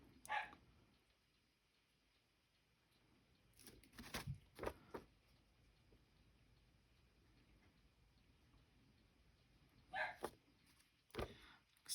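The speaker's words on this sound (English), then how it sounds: "Excuse my dog. He's downstairs and the gate's shut and he's not happy right now." A dog downstairs behind a shut gate barks in short, distant clusters, a few sharp yelps near the start, middle and end. The barks are faint and quiet, with room noise between them.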